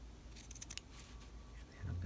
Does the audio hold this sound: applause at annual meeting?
no